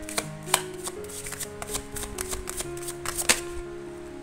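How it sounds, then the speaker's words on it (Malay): Tarot cards are shuffled by hand during a reading, a steady run of soft riffling slaps and card-on-card taps, close and fairly loud, with faint background tones beneath and no talking. "Saya akan shuffle kembali."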